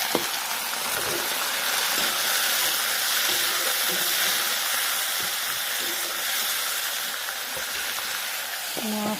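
Fish frying in a pan gives a steady, even sizzle and hiss that runs the whole time at moderate level, with no voices.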